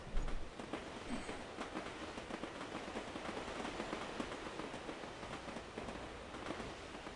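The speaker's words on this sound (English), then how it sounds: "we got our food train coming up" Train rolling past in the Sid Meier's Railroads video game, a steady, quiet rumbling clatter of rail cars moving continuously with no voices over it.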